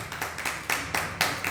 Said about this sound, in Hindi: इस कहानी पर आपने ताली तो बजाई